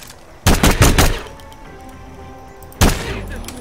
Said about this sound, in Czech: Vole, tato zbraň střílí sice hrozně,